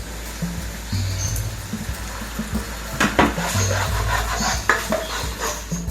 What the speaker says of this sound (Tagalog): unahin natin i-stir-fry ang chopped garlic and chopped onions